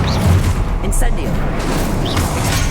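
The Incendio fire spell in Hogwarts Legacy bursts out with roaring, whooshing flame and low booming thuds, loud and close, followed by a second flare of crackling fire.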